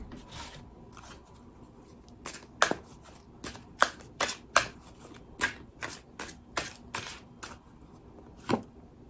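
Hummingbird Wisdom Oracle cards being shuffled by hand, soft papery riffles and flicks coming in uneven bursts with sharper snaps between them, close and quiet.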